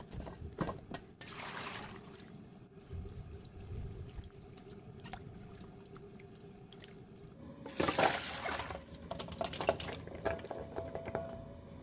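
Chunks of winter melon get rinsed in water after a limewater soak, with faint sloshing and splashing that swells into a louder burst of running, pouring water toward the end.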